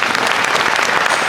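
Crowd at a Disney Imagineering panel at the D23 Expo breaks into a short, loud burst of applause, dense and continuous for just over a second.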